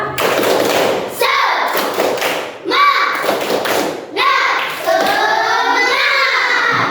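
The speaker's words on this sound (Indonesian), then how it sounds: "Baik, tepuk semangat." Schoolchildren in a classroom perform the rhythmic 'tepuk semangat' spirit clap, loud bursts of clapping in a patterned beat with children's voices chanting along, close and energetic.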